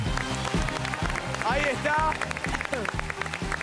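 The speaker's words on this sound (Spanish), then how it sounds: "Un fuerte aplauso para Silvita Ruiz." Studio audience applause on a game show, rhythmic clapping in a steady beat with music playing alongside, while a voice calls out briefly over it.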